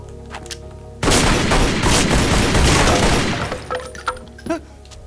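Gunfire in the video game Tomb Raider Legend, a sudden loud burst of rapid shots with shattering debris lasting a few seconds, then tapering into scattered clinks and a fading impact.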